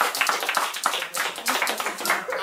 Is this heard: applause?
yes